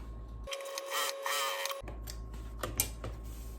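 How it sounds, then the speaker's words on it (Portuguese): A sewing machine stitches fabric for a clutch bag with a half-centimetre seam allowance, a steady mechanical whir that runs for over a second and is followed by clicks and handling noises. "vou costurar com margem de meio centímetro"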